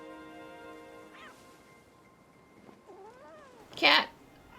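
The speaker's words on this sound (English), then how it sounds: "Cat." A cat meows inside the video game Wuthering Waves, a brief rising call followed by a louder, sharper burst near the end over a quiet musical background.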